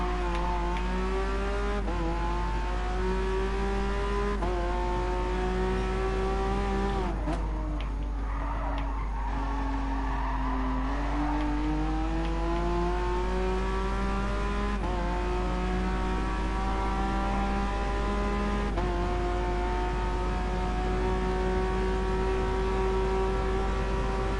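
A racing car in the GT Sport video game, its rear end stepping out: a steady, loud engine drone with shifting pitch, broken in the middle by a burst of tyre skidding and scrabbling before the engine note settles again.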